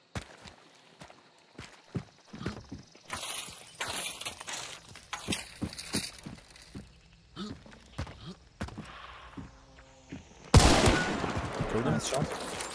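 Gunshots in the video game Hunt: Showdown ring out as scattered sharp cracks among footsteps, with a loud, close burst near the end; quiet voices talk in the background.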